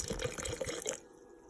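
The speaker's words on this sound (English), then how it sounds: "you're going to keep adding water or vinegar" Water or vinegar poured into homemade salsa, a short liquid splashing and dripping patter that stops abruptly after about a second, close and fairly quiet.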